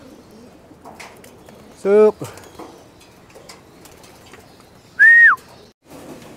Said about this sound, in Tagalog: Yung mga kalapati ko, di pa sanay sa truck.